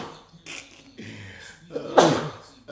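A single sudden sneeze bursts out near the end, loud and close, after some soft breathy movement sounds.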